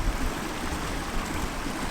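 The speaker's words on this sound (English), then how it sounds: "We made it to the waterfalls." A waterfall on Dartmoor gives a steady, unbroken rush of falling water, close and moderately loud, with no voices.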